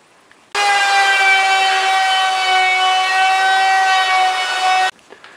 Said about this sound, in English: take my chamfer bit and I'm going to chamfer this top piece